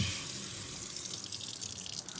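Hot water gushes steadily from a tap into a camp dishwashing sink at the Vestar campsite. It makes a continuous close hiss and splash with no voices.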